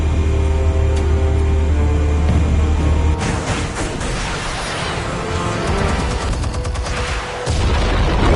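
Explosives detonating in the Telltale Batman video game: a heavy sustained rumbling blast with crashing debris and secondary booms rolling on for several seconds, loud and close, with no talk over it.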